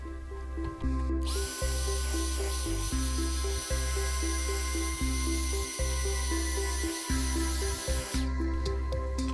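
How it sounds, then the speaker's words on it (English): An airbrush sprays a steady, bright hiss while being cleaned out between colors during topwater lure painting, with a compressor thumping rhythmically underneath; the spray cuts in after a second and stops shortly before the end. "So I'm going to try to get the airbrush cleaned out"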